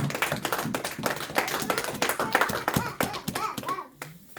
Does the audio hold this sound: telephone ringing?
no